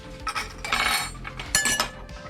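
A spoon scoops and clinks against a bowl in a kitchen, several quick bright metallic taps and scrapes up close, with no talking.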